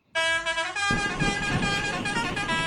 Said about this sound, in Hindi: आप गाड़ी का हॉर्न चेक करें